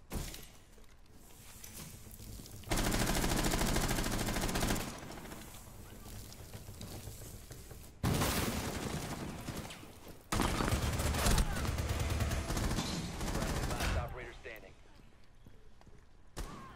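Gunfire from the video game Rainbow Six Siege comes in several loud, dense bursts separated by quieter gaps, with sharp breaking impacts and a player talking between them.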